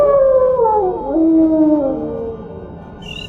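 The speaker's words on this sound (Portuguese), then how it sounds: "O lobo da ravina abriu sua mandíbula gotejante vermelha mais do que Kergus poderia abrir os seus braços, e então soltou um uivo" A ravine wolf lets out one long, loud, close howl that slides down in pitch and then fades, ending in a short high yip.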